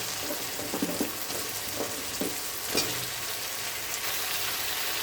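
Brinjal, drumstick and potato pieces sauté in oil with onion and tomato in a pan, giving a steady close sizzle broken by a few stirring knocks and scrapes.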